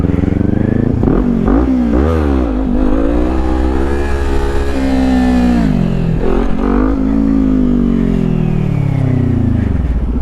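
A Yamaha FZ09 motorcycle revs up and down on a ride in Dallas, its engine pitch swooping and climbing repeatedly, loud and close with steady road rumble beneath.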